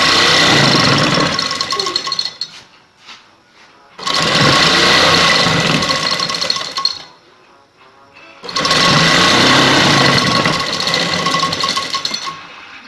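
A sewing machine stitches lace onto a shirt hem in three loud, close bursts of rapid mechanical whirring, with short quiet pauses between runs.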